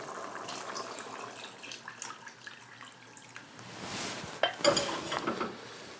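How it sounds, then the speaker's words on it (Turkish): Hot water is poured into a vegetable soup pot, a splashing, trickling rush that swells near the end, mixed with faint clinks of metal and pot lid, no talking. "4 su bardağı daha su ekliyorum. Sıcak su."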